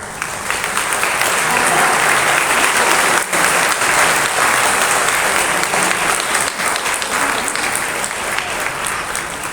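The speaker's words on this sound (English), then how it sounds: "There was this huge round of applause. Can you hear it, Arun?" A huge crowd breaks into loud, sustained applause at a school inclusion event after a piano and song performance, dense clapping filling the whole stretch without letup.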